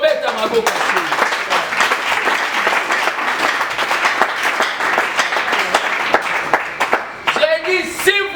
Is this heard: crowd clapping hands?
yes